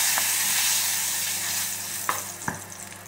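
Ground cinnamon and crushed cardamom stirred into a hot pan for a curry give a steady close sizzle, with a few sharp spoon scrapes and knocks near the end.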